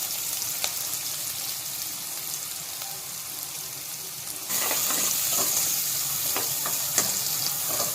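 Chopped green chili, onion and carrot pieces fry in hot oil with cumin, giving a steady close sizzle that turns louder and brighter partway through, with scattered stirring clicks.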